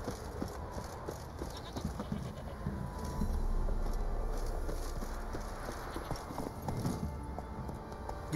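Horse hooves clip-clopping at a steady trot in The Witcher 3: Wild Hunt, a continuous rhythmic patter of hoofbeats over outdoor ambience, fairly close, with no voices.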